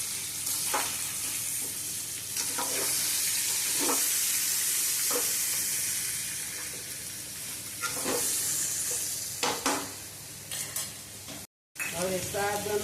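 Boiled, peeled and chopped potatoes, about 500 grams, fry for a Gujarati suki bhaji, giving a steady close sizzle broken by repeated scraping stirs of the pan, then a brief dropout near the end.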